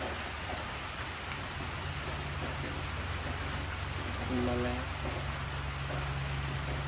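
Steady rain falls at a rural forest home, a soft even hiss throughout, with brief faint talk partway through.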